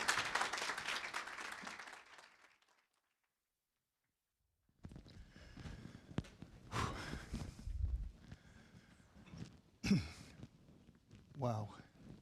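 Applause from a conference audience at a business event as a presenter is welcomed onstage, a broad wash of clapping that fades out, followed after a pause by someone speaking into a microphone.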